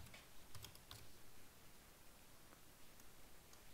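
Numbers typed on a computer keyboard, a few faint clicks in small clusters near the start and a couple more later, set against a soft hiss.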